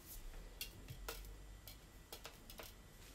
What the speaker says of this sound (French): Donc là, je vais fouetter à la main.